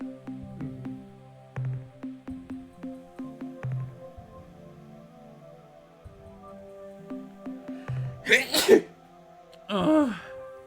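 A person sneezes twice near the end, two short sharp bursts, following a stretch of plinking tonal game music and faint voice.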